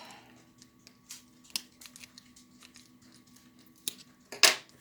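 Scissors snip paper for a lapbook in a few quiet, scattered cuts close by, ending with a sharper, louder snip.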